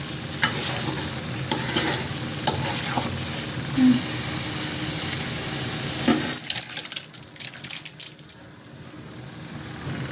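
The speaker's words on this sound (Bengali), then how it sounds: "ডালগুলো ঢেলে দিয়ে সজনা আর ডালগুলো আরও 10 মিনিট ভালো করে কষিয়ে নেব।" Drumsticks and boiled masoor dal sautéing in a pan, a loud continuous sizzle with scraping and clinking stirs that thins out and quiets toward the end.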